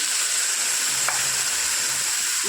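Water poured into a hot frying pan sets off a loud, steady sizzling hiss that fills the short moment, close up, with no voices.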